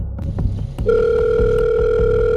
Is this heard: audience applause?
no